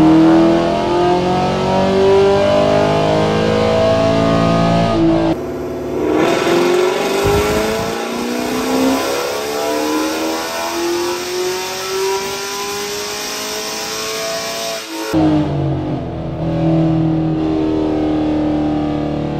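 A cammed sixth-generation Chevrolet Camaro SS V8 roars through a full dyno pull, engine note climbing steadily as it revs hard and loud, then dropping back to idle at the end.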